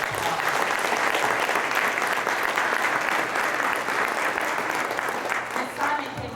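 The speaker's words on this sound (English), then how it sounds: "Just give everybody a round of applause." An audience claps for the event staff at a memorial gathering, sustained dense applause that holds steady and eases slightly toward the end, with faint voices beneath.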